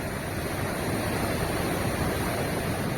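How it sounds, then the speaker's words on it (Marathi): Water from a mountain stream flowing out of rock crevices on the road from Aryan Valley to Leh, a steady, broad rush, unbroken and fairly close, with no voices. "डोंगर कपारीतून येणारं असं खरायचं पाणी"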